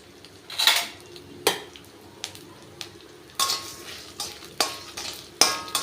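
Chana dal with curry leaves, coriander seeds and asafoetida dry-roasting in a pan for sambar: a spoon scrapes and stirs in sharp irregular clinks and scrapes, close and alone, with a faint sizzle underneath.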